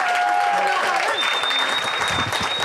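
A comedy-show audience applauds Joël Prudhomme, with loud, dense clapping throughout, tonal whistles and a voice mixed in over the steady applause.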